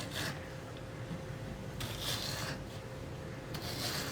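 A knife cuts raw mango into small, thin pieces for a sadya-style mango pickle, giving soft rasping, scraping strokes at an irregular pace, close and fairly quiet, with no voices.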